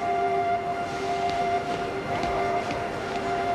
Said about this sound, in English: CN train number 46 has arrived.